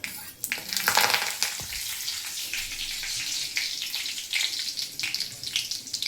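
Four or five curry leaves hit hot oil in a tempering with a pinch of asafoetida, bursting into a loud, bright spitting sizzle that slowly settles into steady crackling.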